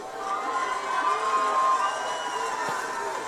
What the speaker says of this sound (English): so why are they cheering?